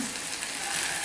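Potato and radish pods (mogray) frying in a pan over a low-to-medium flame make a steady, dense sizzle that carries on evenly throughout, with no voices.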